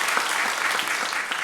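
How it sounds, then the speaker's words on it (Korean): A church congregation claps together to welcome a newcomer during a Sunday service, a dense, steady wash of applause from many hands filling the room for its whole length. "우리 박수로 우리 한번 환영하도록 하겠습니다"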